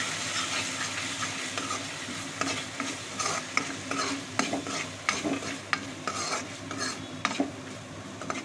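Cumin being stirred into a frying dhaba-style egg masala curry in a pan, a steady close sizzle with repeated scraping stirs and light utensil clinks, no talk.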